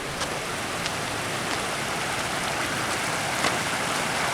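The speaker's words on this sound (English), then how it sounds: "Creek passes through and goes down this way." Creek water rushing past a road crossing near Asheville in the aftermath of Hurricane Helene, a steady, loud broadband wash with no pauses and no voices.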